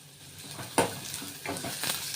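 Finely chopped onions fry in hot oil over medium heat with a continuous sizzle, as a utensil stirs them in a few sharp strokes that scrape across the pan, close and loud, with no talking.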